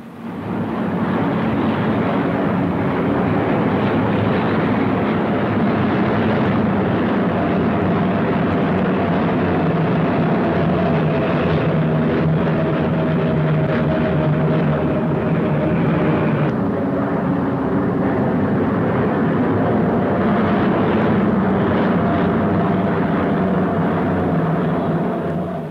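Piston engines of an Avro Lancaster bomber on a test flight, a loud continuous drone with steady harmonic tones throughout, heard close with wind rush and no talk.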